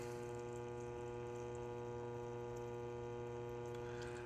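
A Gold Cleaner 61/M2 runs with pumped water, giving off a steady, faint mechanical hum with a tonal drone and a light watery background, no voices.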